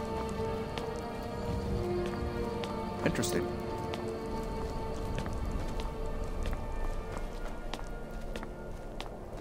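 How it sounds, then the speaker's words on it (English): In-game rain falls in the Skyrim video game as a steady, dense patter on surfaces throughout. A voice briefly speaks over it. "Ooh, it's raining."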